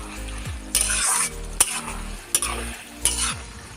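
Pumpkin curry with coconut and shrimp stirred in a pan after water goes in, with a spoon scraping and clinking at intervals over a soft wet bubbling, close and with no talking.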